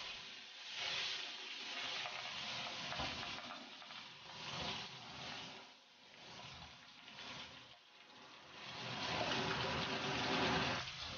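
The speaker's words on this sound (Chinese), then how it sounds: "把鱼排放入锅中，煸至2面金黄" Grass carp fish steaks fry in hot oil in a wok over high heat, producing a soft continuous sizzle and hiss that swells and fades as the pan is shaken, with no talking.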